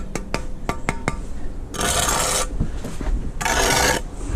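Steel trowel scraping excess mortar off freshly laid brickwork outdoors: a few sharp taps first, then two rough, loud rasping scrapes, each lasting under a second, close by with no talk.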